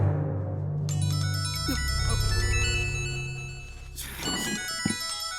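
A mobile phone rings inside a courtroom in a Malayalam film scene, a bright electronic ringtone melody of repeating tones that plays steadily over a low room hum, with a few soft knocks and no speech.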